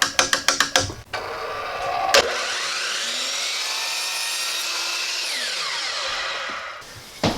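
A Ryobi power saw cuts through wood, with a sustained whining buzz lasting several seconds that rises and then winds down. A series of sharp taps and clicks comes just before the cut.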